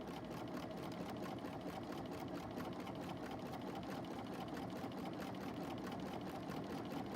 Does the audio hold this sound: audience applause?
no